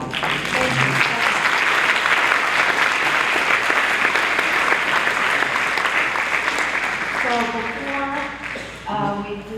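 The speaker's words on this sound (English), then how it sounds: "let's just give you another round of applause" A symposium audience on racism applauds Father Dan steadily for about seven seconds, dense and sustained clapping that thins out toward the end as a few voices come in.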